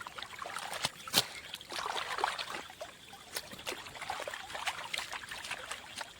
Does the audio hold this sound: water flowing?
yes